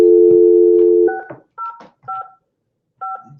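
Touch-tone phone keypad tones: one long steady tone, then four short dialing beeps spaced about half a second apart, loud and clear with no talking.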